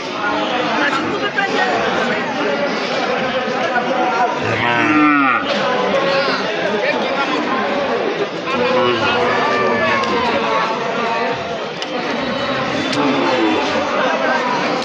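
Busy outdoor cattle market before Eid al-Adha, with cows mooing repeatedly over a constant crowd din of chatter and voices, a louder close low moo standing out partway through.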